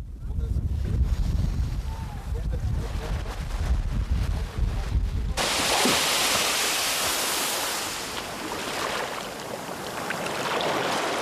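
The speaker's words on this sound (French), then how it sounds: "Le bercement des vagues qui vont et viennent repose l'esprit et le corps." Ocean waves roll in and out, starting as a low rumbling churn and then swelling into a broad, steady rushing wash of surf that ebbs slightly toward the end.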